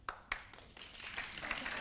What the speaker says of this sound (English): If you think the behavior didn't look flirtatious,